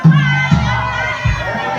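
A crowd at a clan reunion in Nasugbu, Batangas lets out a loud, brief shout that quickly fades into scattered voices.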